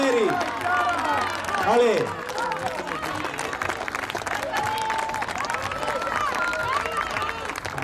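A crowd applauding and cheering at a night athletics meeting during a women's 600 m race, with a continuous clapping roar and an announcer talking over it.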